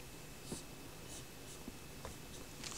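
Pen or chalk scratching out an equation about forces, a soft, steady scraping with several brief strokes, fairly faint and close, with no talking.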